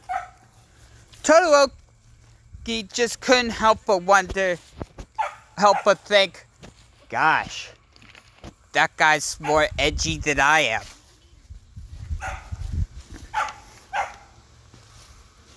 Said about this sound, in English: Sorry about that, that's the dog.